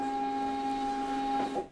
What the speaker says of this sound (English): you will see that my Zebra printer prints the label with everything on it as it is